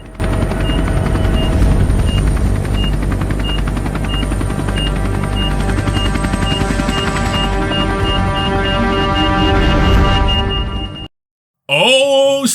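A helicopter in the video game Code of Honor whirs loudly and continuously with rapid rotor chopping, then cuts off abruptly into a short silence before a different sound resumes.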